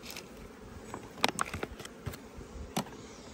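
Honeybees in a small five-frame nucleus hive buzz softly, with several closer individual bees zipping past in short bursts over a faint steady hum.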